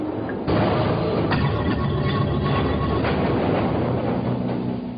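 Manhattan subway train rolling through a tunnel, a steady loud rumble with rattling wheel and car noise that starts abruptly and continues throughout, no voices.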